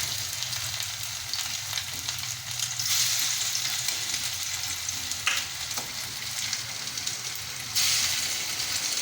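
Marinated fish pieces fry in hot oil, giving a continuous close sizzle and crackle with louder bursts of spitting as pieces go in, with no one talking.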